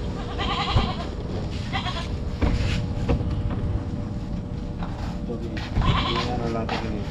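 Goats bleating on a farm, several repeated calls near and mid-distance over a steady background rush, with people talking throughout.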